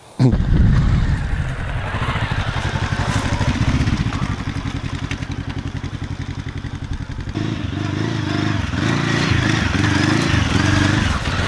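A Voge 525 X scrambler motorcycle engine revs and roars continuously close by, with shifting throttle and rattling clatter as it rides over rough off-road ground.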